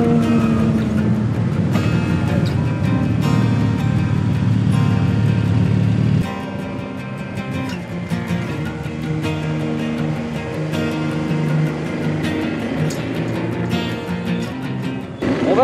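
A Honda Transalp 650 motorcycle overtakes a Ferrari on an alpine road, its loud steady engine roar and wind noise dropping partway through as the pass completes.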